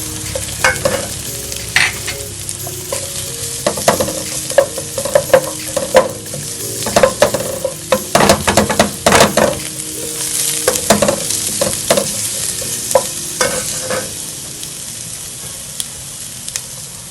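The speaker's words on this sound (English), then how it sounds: "I love to saute my garlic first to release that nice aroma in the oil. I'm going to add my onions." Garlic and onions sauté in hot oil in a chicken and sweet potato vegetable stir-fry, a continuous crackling sizzle broken by repeated scraping stirs, close and fairly loud, with no talk.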